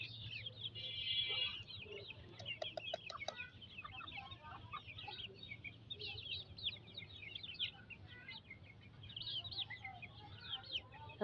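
Native chicken chicks on a small farm, peeping and clucking in quick bursts at close range over a steady low hum.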